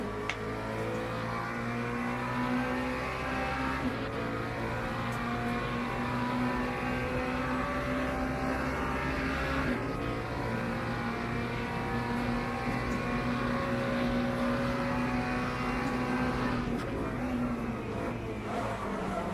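Continuous loud engine drone from a damaged race car in Le Mans Ultimate, holding a steady tone with slight pitch shifts, close and uninterrupted with no voices.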